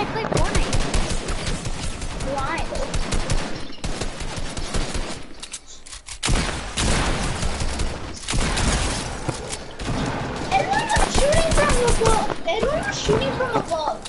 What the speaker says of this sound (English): Everyone was shooting from above!